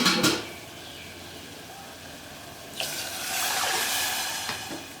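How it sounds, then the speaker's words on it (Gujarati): Water is poured into moong dal in a pot on a gas flame, a brief splash at the start, then a steady gushing pour for the last couple of seconds. "એક વાટકી દાળ હોય એટલે આપણે ચાર વાટકી પાણી ફરજિયાત ઉમેરી દેવાનું"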